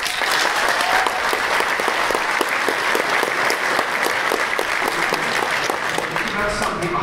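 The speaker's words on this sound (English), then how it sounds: "Clap, please, if you would." Audience applause in a lecture hall: dense, steady clapping from many hands that runs loud and unbroken for about seven seconds, with a faint crowd murmur beneath it.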